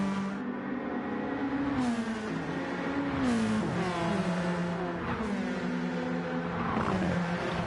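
Race cars in a sim racing game at Bathurst accelerate off the start, a dense, loud layered engine roar with rising and shifting revs throughout, several cars at once.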